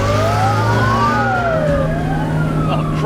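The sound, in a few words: police car siren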